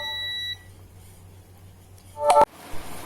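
A multimeter set to continuity mode tests speaker pins on a mini Bluetooth amplifier build, giving a steady tonal beep that cuts off, then a short sharp click-like burst near the end, close and clear without speech.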